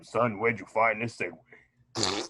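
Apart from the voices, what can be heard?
fart sound effect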